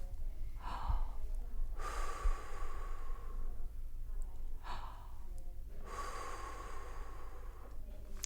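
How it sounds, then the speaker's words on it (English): Modified labour breathing: a lighter breath in and a long, audible breath out, repeated in slow cycles with pauses between them, close and soft. "So your modified breathing, you've still got a nice long breath out, you've still got a pause between breaths, it's just a lighter breath."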